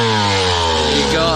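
Sherco 125 two-stroke enduro motorcycle engine idling slightly high, a close, loud, steady buzzing drone with a faint rise in pitch toward the end.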